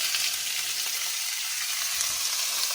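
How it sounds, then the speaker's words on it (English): Raw shrimp hit a hot frying pan and sizzle loudly and steadily, a dense bright hiss that holds evenly throughout with no voices over it. "And now I'm going to add my shrimp to the pan."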